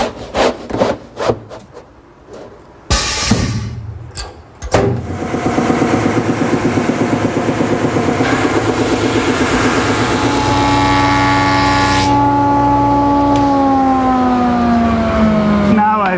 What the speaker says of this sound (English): a wide belt sander, that's the way to get the job done